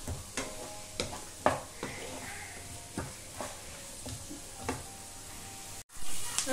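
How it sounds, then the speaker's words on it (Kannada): Vegetables fry in hot oil in a home kitchen pan for white sauce pasta: a soft, steady sizzle with repeated sharp clinks and scrapes from stirring. "ಇದು ಎಣ್ಣೆಯಲ್ಲಿ ಸ್ವಲ್ಪ ಫ್ರೈ ಆಗಲಿ"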